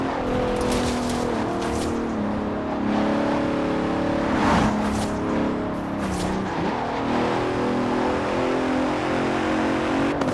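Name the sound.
Bentley Continental car engine revving in Forza Horizon 4 video game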